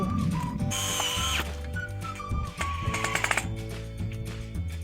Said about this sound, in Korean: 그렇게 해서 피스 박으면 되는 거구나